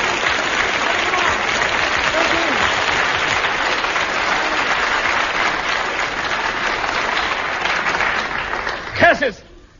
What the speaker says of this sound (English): I recognize the applause.